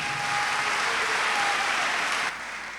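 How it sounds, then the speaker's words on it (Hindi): A church congregation applauds steadily at a Catholic church in Lahore, a dense, sustained wash of clapping that drops slightly near the end. "आज हम तमाम ख़ानदानों को मुबारकबाद देते हैं और तमाम ख़ानदानों के लिए ज़ोरदार तालियां बजाते हैं।"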